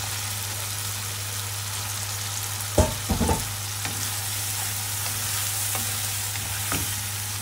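Potatoes and baim fish curry stir-frying in a pan, a soft steady sizzle broken by a quick cluster of spatula knocks against the pan.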